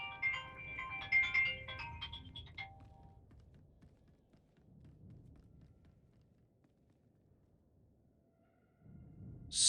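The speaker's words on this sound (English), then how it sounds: "I'm getting a phone call." Ringtone of an incoming phone call during a Star Wars: The Old Republic gaming session, a melodic tonal pattern chirping for a couple of seconds at the start, followed by quiet rustling and a louder burst near the end.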